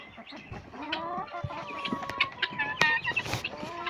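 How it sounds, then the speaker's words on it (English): Several chickens, including a big rooster, cluck and squawk close by in irregular bursts, with some louder calls standing out and no talking. "Chickens."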